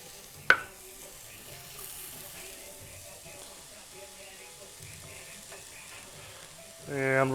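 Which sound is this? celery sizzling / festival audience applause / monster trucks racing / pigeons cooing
celery sizzling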